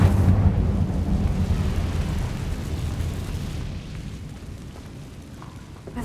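An Incendio fire spell cast in Hogwarts Legacy, a loud roaring, rumbling burst of flame that slowly fades into a softer crackling hiss.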